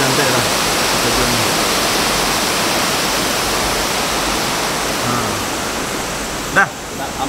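A jungle waterfall in Sarawak roars as a steady, loud rush of falling water, filling the whole stretch, with a brief knock near the end.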